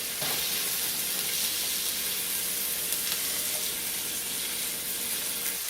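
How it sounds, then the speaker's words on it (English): Mushrooms saute in olive oil in a pan, giving a steady, dense hiss of sizzling with faint crackles, close and continuous with no talk over it. "I'm going to saute the mushrooms."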